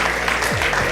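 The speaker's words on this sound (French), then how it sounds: "On va vous accompagner par des acclamations s'il vous plaît." Audience applause and cheering at an awards ceremony for young leaders, a steady wash of clapping filling the whole second, with faint voices mixed in.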